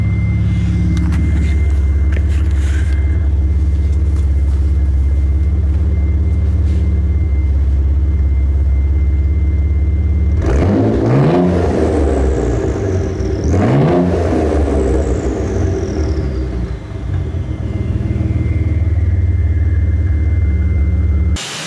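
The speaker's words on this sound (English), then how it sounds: "I like the turbo sound" A car engine hums steadily, then revs sharply twice with rising whine and whoosh of a turbo spooling, settling back to a loud idle.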